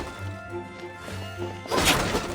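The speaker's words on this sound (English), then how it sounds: "Can't you destroy the boxes a little more quietly?" Boxes being smashed in a video game, a burst of cracking and crashing that comes in near the end over a low game soundtrack.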